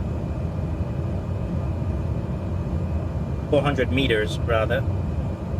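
Light airplane on a landing approach at 84 knots toward a 400-foot runway with the throttle pulled back; a steady, close engine and cabin drone runs throughout while a voice talks briefly near the end.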